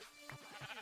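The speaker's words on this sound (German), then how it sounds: "Ziege, Alter, da ist die Ziege." A goat in the video game Minecraft bleats in short repeated calls, a few quick wavering cries close by over a steady low game background.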